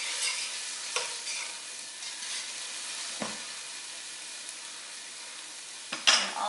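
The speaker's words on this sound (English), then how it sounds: "Give it a stir, and let that saute for about another minute." Minced garlic, sage and rosemary sautéing in a pot, a soft even sizzle with three or four distinct spoon scrapes and clinks, the last one louder near the end.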